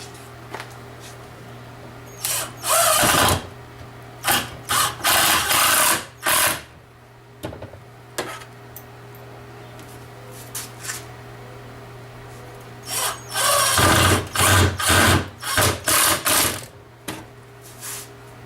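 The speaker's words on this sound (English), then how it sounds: "we are going to attach the screws" A power drill drives screws into a wooden step stool in several loud, whirring bursts of a second or two each, separated by quiet pauses, close by and without speech.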